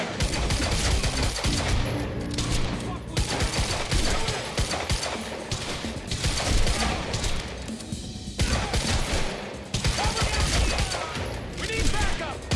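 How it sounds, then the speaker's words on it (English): Dense automatic gunfire rattles in bursts through a firefight in the video game Quantum Break, loud and sustained with brief gaps, mixed with faint shouted game dialogue. "He's got a gun! Open fire!"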